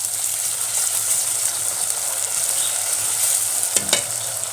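Tomato paste is stirred into onions frying in a pan for stuffed vegetables, giving a steady close hiss of sizzling oil with a spoon scraping through it and one brief knock near the end.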